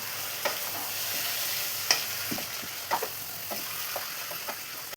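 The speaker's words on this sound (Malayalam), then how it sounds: "ഇനി എല്ലാം കൂടെ ഒന്ന് മിക്സ് ചെയ്ത് കൊടുക്കാം." Marinated chicken and tomatoes are stirred in a frying pan for chicken chukka, with intermittent spoon scrapes over a steady sizzle, close and alone without voices.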